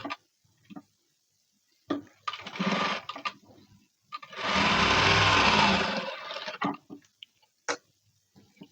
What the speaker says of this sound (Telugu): ఈ బ్యాక్ పార్ట్ని ఈ ఫ్రంట్ పార్ట్ని ఈ ఖర్చు పై వైపుకు ఉండేలాగా చూసుకొని ఎగ్జాక్ట్గా ఇలా స్టిచ్చింగ్ వేసుకోవాలి